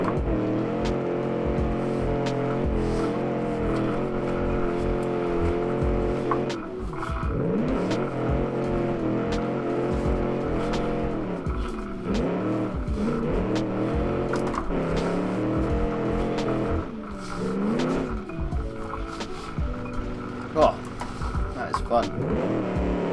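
Car engine at full throttle in the Automation driving game, a road-tuned Gasmea 1946, revving with repeated rising and falling pitch sweeps through gear changes, loud and continuous with someone talking over it.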